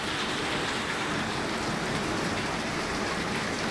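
Heavy rain pours steadily, a dense continuous hiss of drops hitting surfaces, loud and close with no other sounds.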